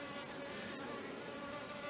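Honey bee buzzing close around a beekeeper's face at an open hive, a steady near drone holding through the whole moment with no talk.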